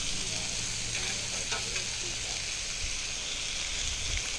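Thick, high-quality bacon sizzling on a Blackstone-style 28-inch griddle, a dense, loud, continuous hiss and crackle heard up close and without interruption for the whole stretch.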